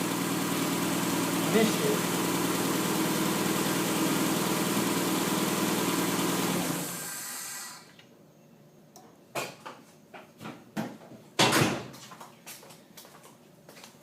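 A Mazda Miata engine idles steadily and loudly for about seven seconds while its idle is adjusted, then cuts out, leaving brief clicks and knocks with a voice speaking.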